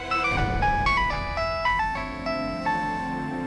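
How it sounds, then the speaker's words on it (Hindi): Mobile phone ringtone playing a bright electronic melody of stepped tones that repeats in short phrases, fairly loud and alone in an indoor scene. "शेफाली, अरे उठा ले फोन।"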